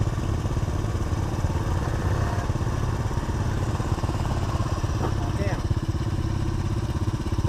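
A Honda CT110 postie bike's small single-cylinder engine running close by, a fast, steady putter with rapid rhythmic pulses throughout, loud and uninterrupted.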